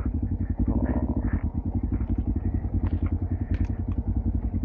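A small scooter engine putters steadily nearby, a low rapid chugging that holds a constant pace throughout.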